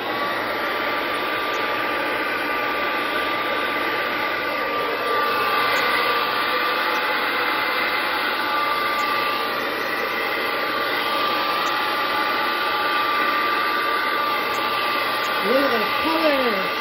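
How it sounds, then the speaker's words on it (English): A blow dryer runs steadily on paint on a canvas, a continuous whirring hum with a faint high whine, close and unbroken, its pitch wavering slightly near the end. "where's my blow dryer? I'm gonna do a little blow drying here."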